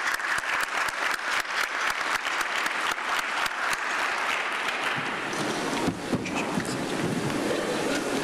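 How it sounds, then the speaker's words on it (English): Applause for conference panel members at an aviation event, with many hands clapping in a dense, sustained burst that gradually thins toward the end. "please join me in a large round of applause for our panel members today"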